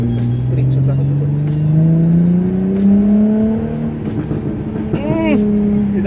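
A Jaguar F-Type S engine with the exhaust open revs and climbs in pitch, then settles into a steady drone, with people talking over it inside the car.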